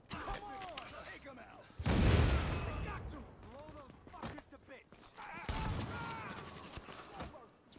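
A sticky bomb explodes in The Division with one heavy, booming blast, followed by scattered quieter gunfire and impacts, all at a low overall level with voices talking over it.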